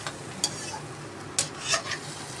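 Silky tofu and egg being stirred in an oily frying pan, with a few sharp scraping stir strokes and faint sizzling underneath, fairly close and without talk.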